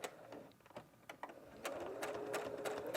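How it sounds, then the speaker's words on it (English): Sewing machine stitching a French seam, with back stitching: a short stop-start whir gives way to a steady, continuous run of stitching that grows louder toward the end. "now we're going to go ahead and stitch again"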